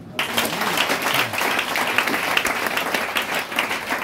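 A church congregation applauding, a dense, lively wash of many hands clapping together, close and sustained for several seconds, with faint voices mixed in.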